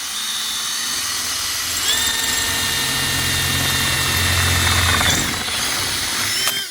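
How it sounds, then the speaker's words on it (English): A power drill bores through stainless steel and aluminum while solar panels are prepared. It gives a steady, close, high whine that rises in pitch midway and ends with a short bite as the bit breaks through. "it'll grab if the drill grabs that stainless steel, it'll want to punch harder"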